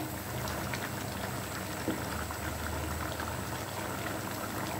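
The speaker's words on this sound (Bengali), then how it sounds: "আলু সহ মাংসগুলোকে সেদ্ধ করে নেব" A pot bubbles and simmers at a steady boil, a continuous soft churning of liquid with no voices.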